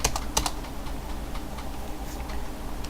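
Computer keyboard keys clacking close up, a few quick presses at the start then softer scattered taps, no talk.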